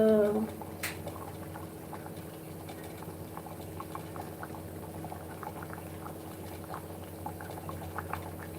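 Kadhi simmers in a pot on a gas stove, a soft continuous bubbling and gurgling over a low steady hum, faint and close, with a brief voice at the very start.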